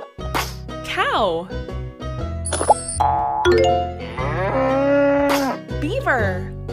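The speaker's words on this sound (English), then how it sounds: "Cow." A cow moos in drawn-out, rising calls, with a bright chime ringing between them over a steady music bed.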